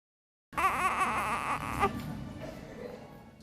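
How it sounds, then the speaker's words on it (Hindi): A newborn's cry rises weakly and fades, thin and low in volume, one short feeble bout that trails off toward silence. "कमजोर रोना"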